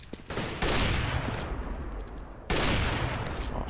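Gunfire from the Counter-Strike map de_dust2 at a 2012 tournament match, with two loud, sustained bursts of rapid shots separated by a slightly quieter stretch of continuing fire.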